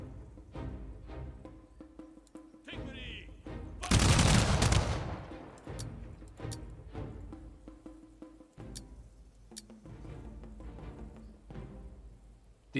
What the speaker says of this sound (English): And now the counter volley.